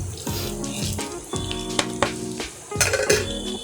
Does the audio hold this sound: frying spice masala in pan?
yes